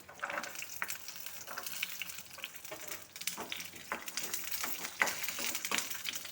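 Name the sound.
garlic and ginger frying in a pan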